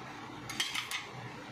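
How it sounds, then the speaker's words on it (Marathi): Hot ghee poured from a large metal ladle brings a few quick clinks and a brief splashy rush over a low background hum, close and short. "मी गरम तूप करून घेतलं आणि बघा 2 मोठ्या पळीनं टाकून घेते"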